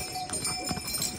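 Horse hooves clip-clopping on the Kedarnath pilgrimage trail, a quick uneven patter of hoof strikes close by, mixed with crowd and trail noise.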